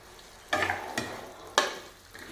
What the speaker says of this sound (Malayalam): നമുക്കിത് നന്നായിട്ട് ഇളക്കി യോജിപ്പിക്കണം.